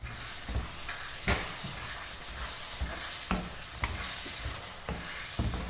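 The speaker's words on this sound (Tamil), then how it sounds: "இப்போ பச்சை கருவேப்பிலை போட்டு கிளறி விட்டுக்கலாம்" Fresh curry leaves get stirred into a pan of citron pachadi over the heat. A continuous loud sizzle and crackle is broken by a few sharp spoon scrapes and knocks against the pan.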